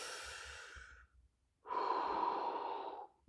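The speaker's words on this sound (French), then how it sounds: "Prends une grande respiration." A deep breath taken in and let out, with a long airy inhale, a brief pause, then a fuller, louder exhale, close and alone with no talking.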